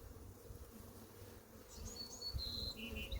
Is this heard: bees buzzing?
yes